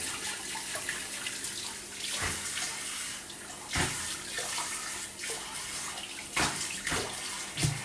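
Hot tap water runs steadily into a basin during a wet shave with a straight blade, brush and soap, splashing with a few louder bursts as the stream is disturbed, close and without talk.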